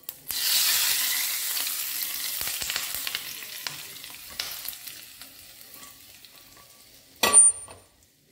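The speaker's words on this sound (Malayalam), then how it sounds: "നമുക്ക് ഈ കടുക് തളിച്ച് നമുക്ക് ഇതിനകത്തോട്ട് ഒഴിച്ചു കൊടുക്കാം കേട്ടോ." Mustard seeds, dried red chillies and curry leaves tempered in hot oil for a vadakootu curry sizzle loudly, fading to a steady crackle, then a sharp burst of hissing as the tempering is poured into the curry.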